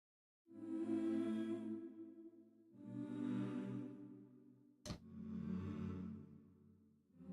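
Choir voices from the Porphyra Alt Choir sample library, recorded with close mic placement: three sustained sung chords, each swelling in and held about two seconds, with a sharp click between the second and third.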